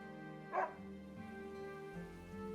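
A single short dog bark from the video game Another Code Recollection, clear but modest in level, set against a soft sustained musical background.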